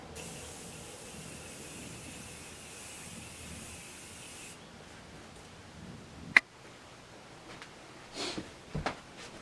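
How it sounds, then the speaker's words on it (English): Morphe Continuous Setting Mist sprayed onto a face, a long soft continuous hiss close to the mic that cuts off abruptly, followed by a sharp click and a few brief quieter spritzes. "I'm going to take the Morphe Continuous Setting Mist, and I'm just going to let it melt all the powders"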